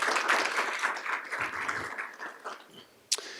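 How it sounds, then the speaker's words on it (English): Audience applause at a school board of education meeting, moderately loud clapping from a room of people that thins out over a few seconds, ending with a sharp single clap. "Give them a round of applause."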